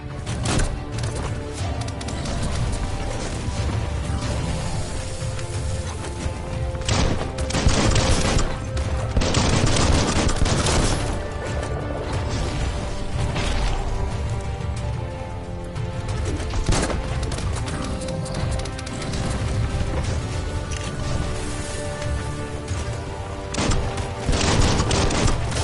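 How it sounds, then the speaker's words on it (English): Dense, continuous gunfire from the video game Biomutant: loud, overlapping automatic bursts and heavy booms pile up without a break, with thuds scattered through the roar. "Bullets everywhere."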